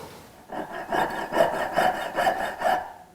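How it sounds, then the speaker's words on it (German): A handsaw cuts through the end of a silver ring blank while a men's ring is forged, with about six rhythmic rasping back-and-forth strokes, close and steady, and no talking. "jetzt sägen wir das andere Ende ab"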